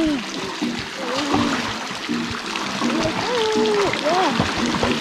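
A young girl splashes in water outdoors in Joyabaj, Quiché, making irregular close splashes and trickles, with voices calling over the top.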